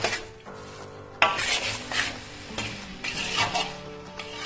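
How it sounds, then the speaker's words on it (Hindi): Whole-wheat atta roasts in ghee on medium heat while being stirred, a spoon scraping the pan in repeated uneven strokes over a low sizzle, with an abrupt louder scrape partway through. "अब इसको हम भूनते रहेंगे मीडियम गैस पे।"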